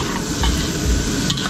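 Garlic and onions sauté in a pan over a loud, dense sizzle, with a couple of stirring strokes across a brief burst.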